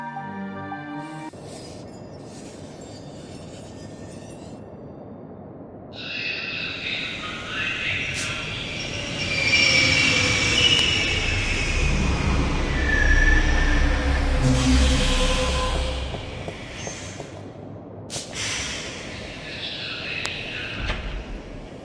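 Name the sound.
Metroline subway train in a video game (The Longest Journey)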